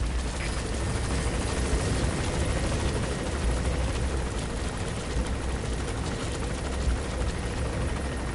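A helicopter in the Metal Gear Solid V: The Phantom Pain video game, with a steady, loud rotor drone and engine rumble holding throughout, no talk.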